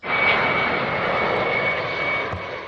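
A loud, steady aircraft engine roar with a thin high whine holds throughout, close and unbroken, as a plane takes off or lands at an airport.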